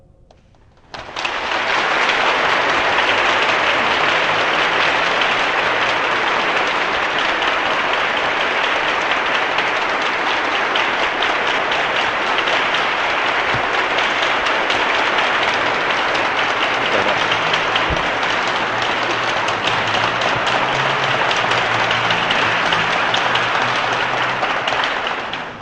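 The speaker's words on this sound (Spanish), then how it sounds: "Este gesto de comunión, de su aplauso" An audience at a Mass honoring San Oscar Romero bursts into loud, sustained applause that swells after a brief quiet opening and carries on evenly for over twenty seconds of dense crowd clapping.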